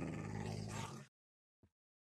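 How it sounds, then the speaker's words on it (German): A wolf in Minecraft gives a short, close, low growl that cuts off suddenly, followed by two faint brief sounds in near silence. "der Hund soll aber mal die Fresse halten, der Wolf."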